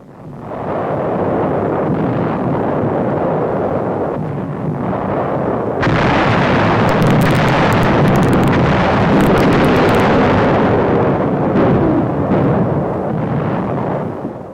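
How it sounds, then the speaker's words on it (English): A naval bombardment shells the Kerama Islands in 1945, heard as a continuous heavy rumble of distant gunfire with a louder, denser barrage partway through, on a grainy old newsreel soundtrack without speech. "General Buckner, commander of the new U.S. 10th Army, observes the naval bombardment."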